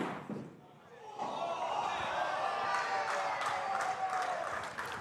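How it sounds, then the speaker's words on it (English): A round of applause at a bowls event, a steady wash of clapping that rises after a brief quieter moment and carries on at moderate distance to the end. "You hear a round of applause in the background."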